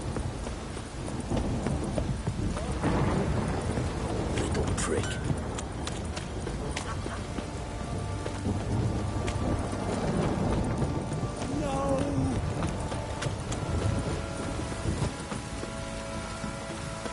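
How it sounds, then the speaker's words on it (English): Heavy rain pours steadily through a storm in the video game Witcher 3, a constant wash of noise beneath rhythmic horse hoof clip-clops and intermittent speaking voices. "This downpour's a bastard, it is."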